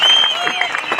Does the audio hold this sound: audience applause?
yes